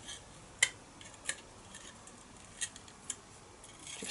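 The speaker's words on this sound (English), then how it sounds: "I'm just going to cut another little hole in here" A blade nicks a small hole into a model wargaming bunker, giving several sparse, sharp little clicks and snips spaced a second or so apart, close up against quiet room tone.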